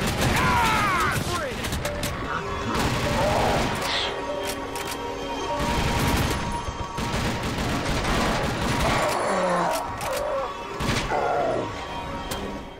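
Shotgun fire in the video game TimeShift sounds as several heavy, sharp blasts spread across the clip, mixed with crashes and mechanical clatter, some of them loud and close, with spoken voices in between.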